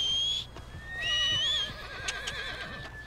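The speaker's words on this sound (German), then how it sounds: "Ja, komm her, Pferd." A horse in Red Dead Redemption 2 gives a long, loud, wavering whinny close by, with a few soft hoof sounds underneath.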